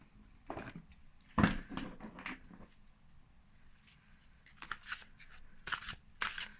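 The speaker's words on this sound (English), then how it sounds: "We are shuffling, so we are not looking, right?" Tarot cards being shuffled by hand, heard as several close, crisp riffling and snapping bursts with short quiet gaps in between, irregular in rhythm.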